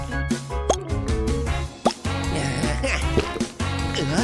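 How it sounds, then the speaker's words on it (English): Glue dripping over a stack of seashells in a craft project, a run of wet plops and drips close up, heard alone against a busy music-like background. "Now drip some glue over it."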